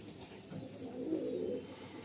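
A pigeon that has flown and played coos softly in a steady low rolling murmur, swelling in the middle, with no voices.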